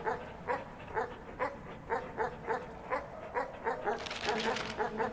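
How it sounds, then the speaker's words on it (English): Dogs in the Animal Well video game bark over and over in a steady, rhythmic run of short yips, roughly two per second. The barks are moderately loud against a faint game backdrop, with a brief chime near the end. "The 3 dogs down there are kind of annoying."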